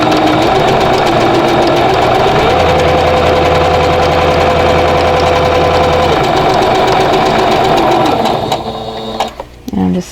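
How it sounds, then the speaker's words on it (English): A sewing machine runs steadily, stitching a quarter-inch seam with a piecing foot on a quilt block, its hum and rapid needle rhythm loud and close for about eight seconds before stopping with a few clicks. "I'm just going to sew 1/4 inch away on both sides of the drawn line"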